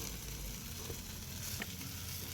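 Chicken tandoori sizzles steadily while being brushed with butter, a quiet continuous crackle with a couple of faint brief taps and no talking.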